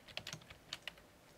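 Programming code typed on a computer keyboard in a classroom setting: a quick cluster of crisp key clicks, a pause, then a few more taps, quiet and close with no speech.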